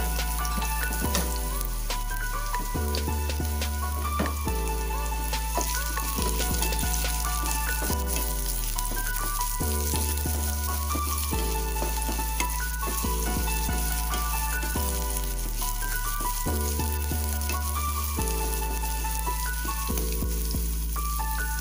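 Onions fry in a pan for a corned beef dish, a constant crackling sizzle heard close, with rhythmic stirring scrapes repeating every few seconds over a steady background hum.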